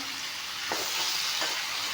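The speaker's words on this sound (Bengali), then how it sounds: "এতিয়া বিলাহীখিনি দি দিছোঁ অলপমান ভাজি ল'ম" Tomatoes fry in a pan for a mutton curry, a close, steady hiss that carries on evenly, broken by a couple of brief stirring scrapes.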